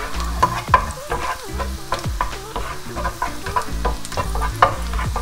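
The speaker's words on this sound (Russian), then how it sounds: "я отправляю сюда нарезанный чесночок. Быстренько его обжариваем, не даем ему пригореть." Chopped garlic sizzles briskly in hot oil in a pan, with stirring clatters and scrapes. The close, steady crackle runs throughout with no talking.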